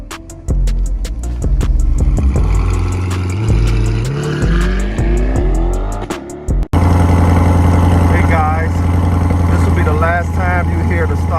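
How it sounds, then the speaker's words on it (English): A C8 Corvette on its stock exhaust cold-starts at 57 degrees in Chicago: a loud crank and sharp rev climbing and falling in pitch, then a brief cutout before it settles into a steady, rumbling high idle. "Last time you hear the stock exhaust."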